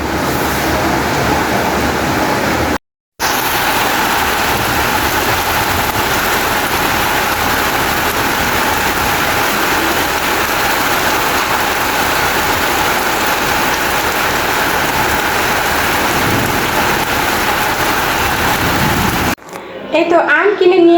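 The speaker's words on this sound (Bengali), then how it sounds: "বৃষ্টি নেমে গেছে অনেক বৃষ্টি নেমে গেছে মেঘের শব্দ পাইতেছে" Heavy rain pours steadily outdoors in a dense, unbroken hiss that fills the whole stretch, loud and close, with only brief breaks where the sound cuts out.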